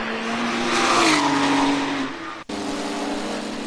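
Porsche race cars battling at Cadwell Park, engines roaring close by and a tire squeal as one passes, followed by a sharp cut to steady engine drone.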